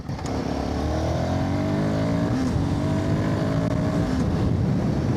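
A Royal Enfield Guerrilla 450 motorcycle accelerating hard out of a corner, its engine note climbing steadily in pitch, loud and close, with wind rush and no talk.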